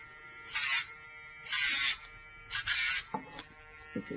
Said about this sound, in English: It's very quiet, as you can hear, compared to the name brand.